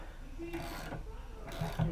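A 7/8 socket wrench clicks as it tightens a fitting on a FASS diesel lift pump in a cluttered shop, a few brief close ratchet strokes under faint background noise and some speech-like sound.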